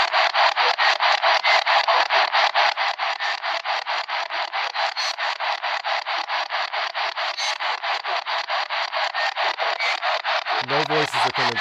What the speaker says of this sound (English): Now, here we are doing a spirit box session.